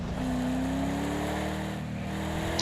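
A car engine in a racing game hums steadily, its pitch rising slowly as the clutch is let out and the car pulls away in first gear. The engine is close and continuous.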